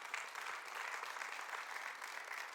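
A church congregation applauds together during a service, a steady, even wash of many hands clapping at moderate distance, continuous with no speech over it.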